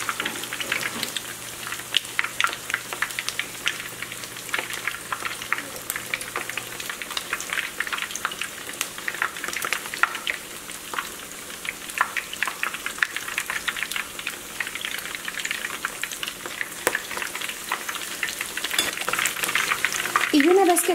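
Shrimp patties fry in hot oil in a pan, giving a continuous bright crackling sizzle with scattered pops and a low steady hum underneath. No one speaks.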